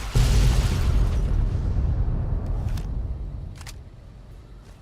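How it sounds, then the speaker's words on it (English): A single loud explosion booms in the video game Fallout New Vegas, with a heavy low rumble that slowly fades and a few sharp clicks near the end. "let's get out of here and explode that thing"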